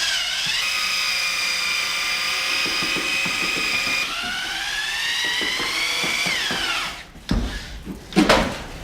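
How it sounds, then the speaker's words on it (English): A steady high-pitched whine from a 1/2 inch drill with a large paddle mixer stirring joint compound runs continuously with a churning, grinding undertone, shifting pitch midway before stopping into a few clattering knocks. "I chuck a large paddle mixer into my 1/2 inch drill and stir until smooth"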